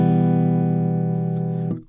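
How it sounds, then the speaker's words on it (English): A dry virtual guitar from UJAM Virtual Guitarist Cinedream holds one sustained chord with little ambience, steady and close before a quick fade and cutoff near the end. "Quite a dry sounding guitar."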